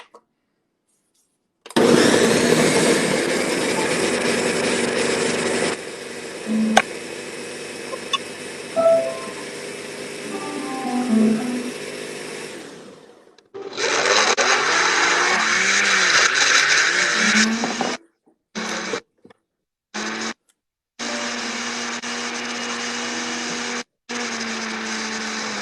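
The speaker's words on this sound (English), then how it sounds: "Here goes my blender." A kitchen blender runs loud and steady for about ten seconds while Christmas baking ingredients are blended, then starts again with a different, busier tone and stops and starts in several short pulses.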